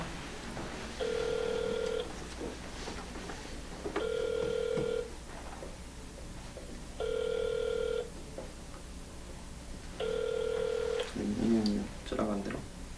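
A telephone ringback tone sounds while an outgoing call connects, with four one-second rings spaced evenly about three seconds apart, followed by a voice speaking near the end.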